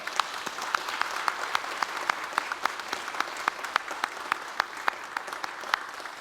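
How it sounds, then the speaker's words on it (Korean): A church congregation claps together in a steady, rhythmic beat, sharp claps ringing out evenly over a background of scattered clapping. "이번에는 우리 교육위원회에 격려의 박수를 한번 하겠습니다."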